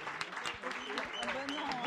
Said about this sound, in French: je veux que vous les applaudissiez beaucoup